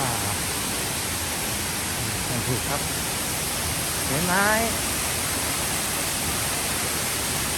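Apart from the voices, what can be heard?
Kroeng Krawia waterfall, Sangkhla Buri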